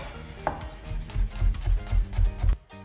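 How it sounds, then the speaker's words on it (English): A kitchen knife roughly chops garlic for a beef ragu, a close run of about eight quick, fairly even thuds on a cutting board, alone with no talk. "The garlic I just roughly chop."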